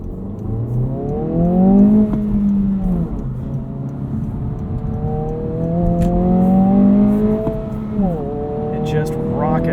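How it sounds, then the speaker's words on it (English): A 2022 Honda Civic Si launches out of a second-gear hairpin at night, its engine revving hard and rising in pitch through repeated climbs, heard from inside the cabin with loud, close drive noise. "We'll do a little launch here, show you guys how this diff handles a second gear hairpin."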